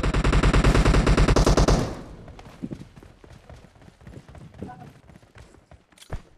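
PUBG Mobile gunfire opens with a loud, rapid automatic burst for about two seconds, then scattered nearer and farther shots and clatter follow, ending with one sharp crack.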